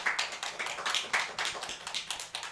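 A church congregation at a Sunday worship service claps in welcome for newly installed members: a scattered run of sharp, irregular hand claps from a modest group, fairly close and with no talking.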